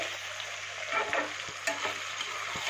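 Onion and ginger paste frying in a pan while being stirred for a potato and fish curry, a continuous close sizzle broken by several knocks and scrapes of the spoon against the pan.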